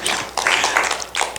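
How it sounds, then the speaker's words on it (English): Scattered audience clapping at a community care conference session in San Antonio, bursts of hand claps in short waves with a brief gap, fairly close and moderately loud, no talking. "let's clap it up for help"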